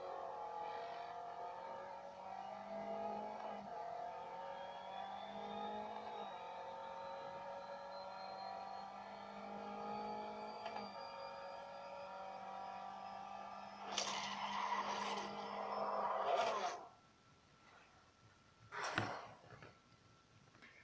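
Race car engine whine with rising pitch in a racing game played on an Acer Iconia Tab 10 tablet, steady under game music, then a loud burst of skidding and crashes near the end.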